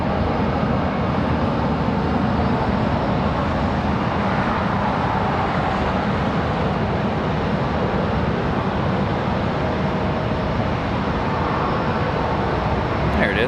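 UPS Boeing 767 airliner coming in to land at Charlotte Douglas airport, a steady broad roar of jet engines that stays loud and constant throughout, heard from the ground with no talking over it.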